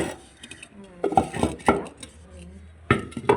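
Someone handles two cooking pots in a home kitchen, with several metallic knocks and clanks in short bursts. A voice talks faintly underneath.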